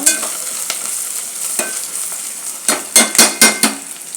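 Rayalaseema-style biryani masala with mint and coriander sizzles steadily in a pan, loud and close, while a spoon scrapes and stirs, growing into several quick, rhythmic strokes toward the end; no voices.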